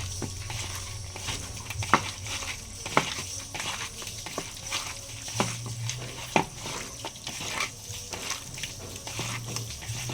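Chicken being mixed by hand with rice flour and spices for chilli chicken 65, a continuous wet squelching and slapping with occasional sharper smacks, close by and steady throughout.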